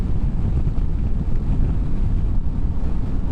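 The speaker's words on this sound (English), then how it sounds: "though it's very nice weather, it is flipping blowy as hell" Strong gusts buffet an outdoor microphone on a blustery day during an off-road motorbike outing, producing a loud, continuous low rumble with uneven buffeting and no clear voice.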